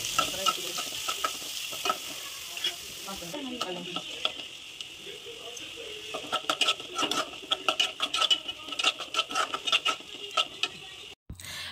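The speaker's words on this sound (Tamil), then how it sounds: "கடாயில் தேவையான அளவு எண்ணெயை ஊற்றிட்டு எண்ணெய் சூடான உடனேயே கடுகு, உளுந்து, கறிவேப்பிலை, நறுக்கி வச்ச வெங்காயம், அப்புறமா 2 பச்சை மிளகாயையும் வெட்டி அதுக்கு கூட சேர்த்து நல்லா வதக்கி" Chopped onions and green chillies frying in hot oil in a kadai with mustard seeds, urad dal and curry leaves, a steady crackling sizzle broken by frequent stirring scrapes and clinks that grow busier toward the end.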